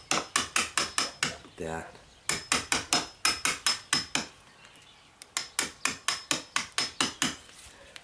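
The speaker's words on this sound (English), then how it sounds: "I'm gonna get this down just with my hammer" A hammer taps rapidly on a metal deadbolt strike plate set in a door frame, giving crisp rhythmic bursts of sharp metallic knocks close by, pausing briefly between runs, with a short spoken word in between.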